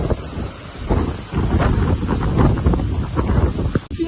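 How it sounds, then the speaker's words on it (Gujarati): Wind gusts buffet the microphone, producing a loud, continuous low rumble that rises and falls throughout. "આવો પવન"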